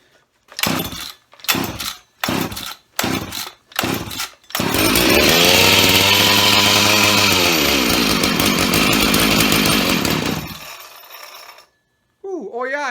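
A Jonsered chainsaw with a broken throttle linkage: five short pull-start cranks, then the engine catches and runs loudly for about six seconds before cutting out.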